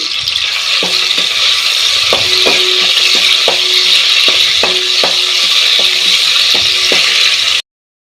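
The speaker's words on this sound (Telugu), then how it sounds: "అల్లం వెల్లుల్లి పేస్ట్ ఒక టీ స్పూన్ వేసుకొని ఫ్రై చేసుకోవాలి పచ్చివాసన పోయేంత వరకు కొంచెం కరేపాకు వేసుకోవాలి" Ginger garlic paste and curry leaves fry in a pan with a loud, continuous close sizzle, broken by a steady series of sharp metal spoon taps and scrapes against the pan. Nobody speaks.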